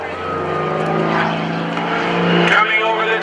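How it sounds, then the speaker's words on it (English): A 415-horsepower Pitts Model 12 biplane flying aerobatics at the 2014 Greenwood Lake Airshow, its radial engine a loud steady droning growl that rises slightly in pitch, with a voice talking over it. "415 horsepower in a biplane, a Pitts Model 12."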